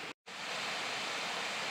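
Small waterfall along the Mason Dixon trail near Mill Falls: steady, full rushing water close by, broadband and continuous, with a brief dropout near the start.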